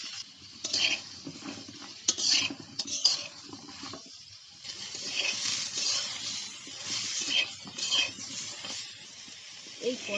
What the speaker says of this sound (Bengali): হলুদের গুঁড়োটা দিয়ে একটু নাড়াচাড়া করে সময় নিয়ে পটলগুলোকে ভেজে নিতে হবে।